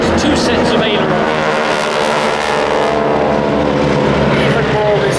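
A 450-horsepower aerobatic propeller plane at a seaside airshow drones loudly and continuously, its engine roar filling the scene while a commentator talks over it.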